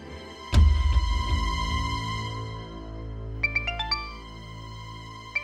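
A mobile phone rings indoors, starting with a sharp thud and then a sustained electronic ringtone melody that ends in a run of bright stepped notes, fairly loud and close with no one talking.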